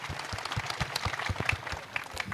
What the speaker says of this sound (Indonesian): tepuk tangan buat RG